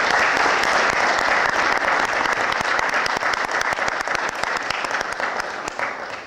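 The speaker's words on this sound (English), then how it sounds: "So please, one more round of applause for Elio Pagliarani and Luigi Ballerini." A large audience gives loud, continuous applause for the poets Elio Pagliarani and Luigi Ballerini, a dense wash of clapping that fills the whole stretch before easing slightly at the end.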